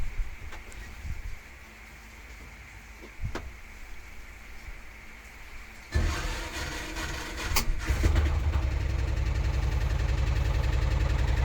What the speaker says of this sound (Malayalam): ജസ്റ്റ് ഒന്ന് സ്റ്റാർട്ട് ചെയ്ത് എൻജിൻ സൗണ്ട് കേൾപ്പിച്ചു തരാം.